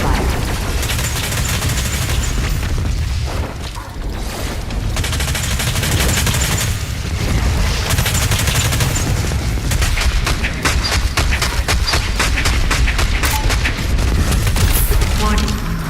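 BFG 10,000 firing in a video game, a loud, continuous barrage of booming blasts and rapid gunfire-like bursts that intensify toward the end.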